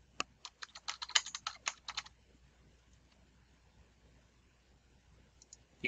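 A computer keyboard and mouse click in a quick burst of sharp keystrokes and clicks over about two seconds, then near silence with a few last isolated clicks, close and clear.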